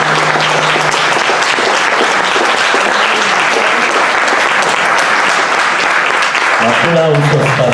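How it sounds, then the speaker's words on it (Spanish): A crowd applauding at a centenary tribute for Óscar Hernández Monsalve, loud dense clapping filling the room without pause, with a voice speaking faintly near the start and again near the end. "Aplausos para Óscar Fernández Monsalve, amante del tango, boxeador, periodista deportivo"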